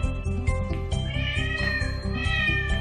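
A male cat meows and yowls repeatedly in quick, insistent, drawn-out calls, close and loud, while being scolded for peeing on a rug.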